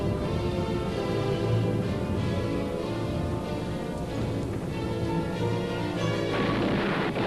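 WWII artillery fire and aerial bombardment around Cassino, a dense continuous rumble of distant blasts with crackling noise, steady and moderately loud throughout with no clear individual shots.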